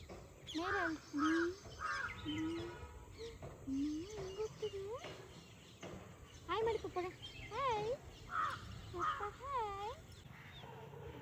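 A crow outdoors gives a series of harsh caws in short irregular bursts, fairly close and clear, with people talking around the calls.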